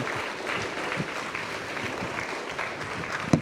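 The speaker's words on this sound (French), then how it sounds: "On peut applaudir nos deux" A conference audience at Futurapolis 2018 gives a soft, even wash of applause after a talk, heard at a distance, with one sharper knock near the end.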